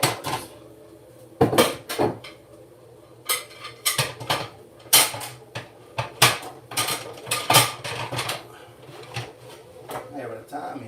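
Metal pots and pans clatter and bang as they are pulled out of a home kitchen oven, a series of loud, irregular clanks and scrapes, close by, with a voice talking over them.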